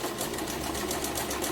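Sewing machine stitching satin fabric to make a simple top, a steady close mechanical whir and rapid needle clatter running continuously and evenly throughout.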